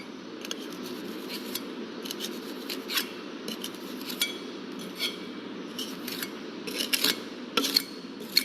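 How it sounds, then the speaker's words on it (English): A trowel scrapes across the top surface of material packed in a mold to level it. The sound is a steady, soft rasping with light scraping strokes and occasional sharper ticks, close and fairly quiet, with no voices. "level the top surface with the help of trowel gauge"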